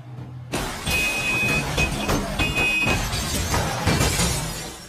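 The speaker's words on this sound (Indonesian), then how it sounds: "Takemichi melihat sebuah mobil yang melaju kencang menuju mobil Hinata" A speeding car slams into another car in an animated scene, a sudden loud crash with shattering glass and grinding metal that stays dense and harsh for several seconds.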